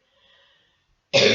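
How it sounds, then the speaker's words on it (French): A single loud, abrupt throat-clearing cough bursts out near the end, following a stretch of faint background tones; no speech is heard. "je tousse tout le temps, c'est évident hein"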